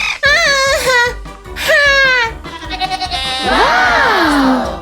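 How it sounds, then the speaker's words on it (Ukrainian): A goat at Emirates Park zoo in Abu Dhabi bleats several times up close, with loud wavering cries separated by short pauses and a long, drawn-out final bleat. "Козел."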